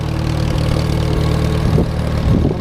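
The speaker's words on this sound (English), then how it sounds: "I'm going to try it on the Super MTA, another 40 horsepower tractor." A 40-horsepower Super MTA tractor engine idles nearby with a steady, loud low rumble and regular chugging pulses, alone without talk.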